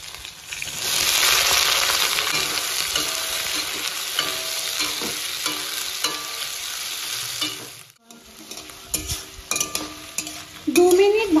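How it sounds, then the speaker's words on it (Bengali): Ginger, garlic, chopped green chili, capsicum and onion stir-fried in a pan, loud continuous sizzling with repeated scraping stirs and occasional metal clinks, briefly dropping away before the frying resumes. "দু মিনিট ভালোভাবে ভাজা হয়ে গেছে"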